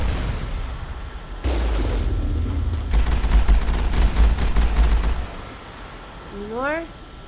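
Rocket blasts hit a squad in Mass Effect 1 on Noveria, a rumbling barrage of impacts lasting several seconds before fading, followed by a rising electronic chirp.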